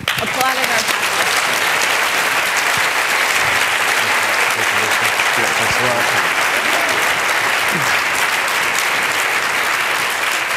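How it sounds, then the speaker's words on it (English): An audience at a nutrition and health public forum applauds its panelists, a loud, continuous wash of clapping with some voices mixed underneath. "please join me in applauding our panelists"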